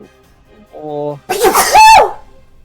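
A single loud human sneeze up close, with a wind-up intake and a sharp explosive burst, preceded by a short voiced sound and followed by quiet.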